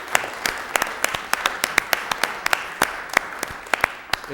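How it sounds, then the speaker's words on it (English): Scattered applause from a small crowd at a city council meeting, individual claps standing out sharply over a steady patter, continuing for several seconds. "How about giving her a round of applause for Karen Rawls?"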